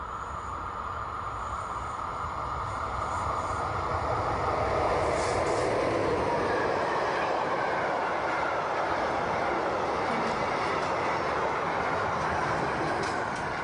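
A class 140 electric locomotive runs on the Spessart ramp, departing after a stop at Laufach, giving a steady, loud rumble and rolling noise throughout with faint higher squeals, no talk.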